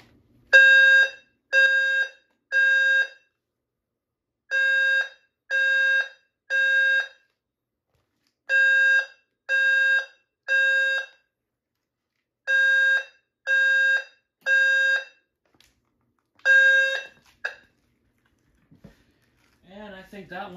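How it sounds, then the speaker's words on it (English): A Faraday 5910 fire alarm horn and a Genesis low-frequency sounder set to code 3 blare in repeated groups of three loud, buzzy tones separated by pauses, followed by brief quieter warbling at the end. "we'll do the Faraday 5910 horn and the Genesis low-frequency sounder, which is permanently stuck on code 3 unless you cut a jumper"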